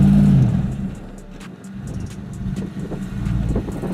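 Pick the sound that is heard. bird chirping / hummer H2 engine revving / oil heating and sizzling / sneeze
hummer H2 engine revving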